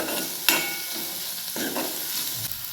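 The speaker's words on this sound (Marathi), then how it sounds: "आपले कांदा छान असं भाजले," Onions frying in a pan for leftover-rice khichdi, with steady close sizzling and a few sharp spoon scrapes and clinks as they are stirred.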